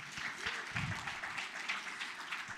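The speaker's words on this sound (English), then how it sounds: "Let's give everybody here a clap" Audience clapping at the closing ceremony of a symposium, a steady broad wash of many hands that holds evenly throughout, with a faint voice briefly audible underneath.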